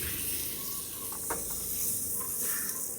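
Tomatoes tipped into a hot pan of spiced oil for mutton kaima, giving a steady broadband sizzle and hiss with a few brief crackling bursts, close and continuous throughout.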